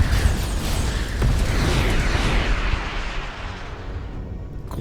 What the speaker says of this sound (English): Glorious explosion as the reactor on the pirate bark goes up.